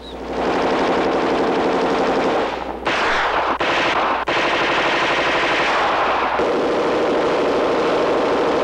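Heckler & Koch weapons in a 1970s live fire demonstration, loud sustained automatic fire in long bursts with brief breaks, with no talking.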